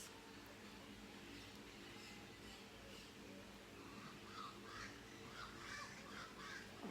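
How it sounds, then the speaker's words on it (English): Birds sing outside in light drizzle, faint chirps scattered over a steady hiss of rain and background noise, growing more frequent toward the end. "Do you hear the birds?"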